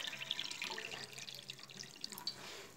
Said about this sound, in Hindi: अब मैंने गिलास लिया और इसमें हम पानी सर्व करते हैं